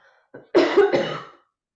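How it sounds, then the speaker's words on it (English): A single loud, harsh cough bursts out close by in a couple of rough spasms, preceded by a short breath, then silence. "sorry, I'm going to cough"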